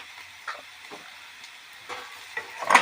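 Potato pieces with turmeric and salt frying in hot oil give a soft steady sizzle, broken by a few sharp scraping stirs, the loudest clatter near the end.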